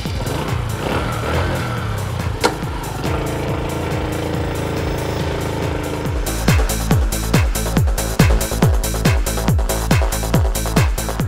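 A clutchless motorcycle drives by on a test ride. Its steady engine drone runs loud and close, then turns into a rhythmic, pulsing thump in the second half.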